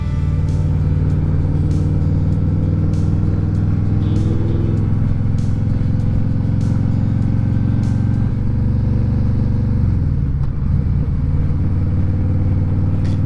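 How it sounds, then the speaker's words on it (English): A car engine rumbles loud and close beside a motorcycle on a road in the Orange Beach area, with steady low drone and shifting revs throughout; no horn stands out clearly. "think this car is messing with me up front. Keeps gunning it, keeps honking his horn."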